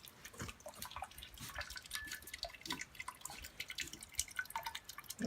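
A brew-in-a-bag wort bag hangs draining after the mash of malt and a little roasted malt, giving a faint, continuous patter of drips falling into liquid below, soft and close with no talking.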